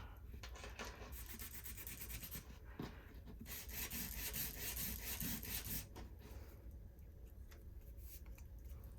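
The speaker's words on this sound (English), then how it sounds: "We are going to scuff these up." Window pieces being scuffed by hand, a steady dry rubbing and rasping that runs continuously with brief pauses and changes in stroke, close and fairly quiet.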